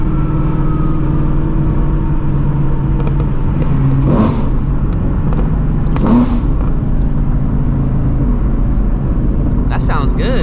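Shelby GT350 V8 engine driven through city streets at night, a loud steady low rumble with a few brief surges and rising whooshes, heard from inside the car with voices over it.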